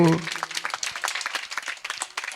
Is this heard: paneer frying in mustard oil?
no